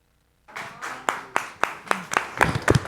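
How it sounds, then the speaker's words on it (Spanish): Audience applause at a documentary presentation event for Mexico's INE, starting after a brief silence and building into steady clapping with sharp individual claps, close and moderately loud. "Les pido un aplauso para el INE que tenemos aquí y a Mario de la Rosa"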